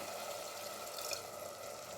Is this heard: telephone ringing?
no